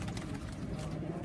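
Pigeons coo on a rooftop, a low soft throaty warbling that continues steadily through the short moment, faint and close without any voices.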